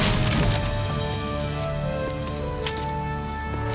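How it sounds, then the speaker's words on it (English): A wooden door is busted open in King's Quest, with a splintering, cracking crash of wood that starts strong and trails off into a rattling, ringing decay. "Bust that door open."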